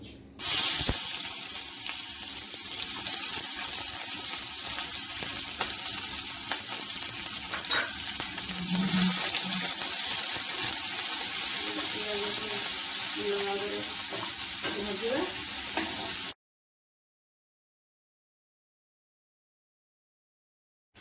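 Chopped onions frying in a pan with oil, a loud, steady close sizzle with occasional stirring clicks lasting about sixteen seconds before cutting to silence.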